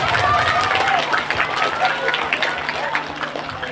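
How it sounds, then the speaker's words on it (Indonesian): An audience at a Maulid Nabi celebration and Quran memorisation graduation claps in a dense, steady burst that fades a little toward the end, with voices mixed into the crowd noise. "Tepuk tangannya Bapak Ibu."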